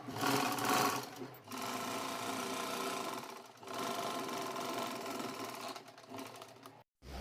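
Domestic sewing machine stitching a straight seam to join the side of a blouse, a steady close mechanical whir running in three long bursts with brief pauses between them and no talk.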